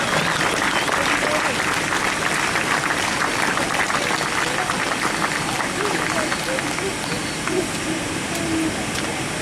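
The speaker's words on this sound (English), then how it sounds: "we all clapped her across the line" Spectators at a marathon finish line during a running festival clap steadily for a finisher, a dense, loud, sustained applause with a voice talking over it throughout.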